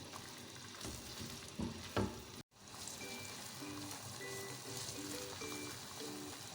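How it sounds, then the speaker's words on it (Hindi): Ginger-garlic paste and yogurt fry on a high flame for beef yakhni pulao, a steady crackling sizzle with a few stirring knocks early on, then a brief cut before the frying carries on close by. "अच्छे से मिक्स करेंगे और हाई फ्लेम पे हम इसको भूनेंगे"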